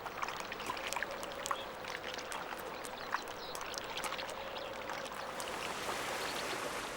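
River rapids near the Arctic Circle rush steadily, with a dense continuous roar of flowing water and scattered splashes and droplets over it.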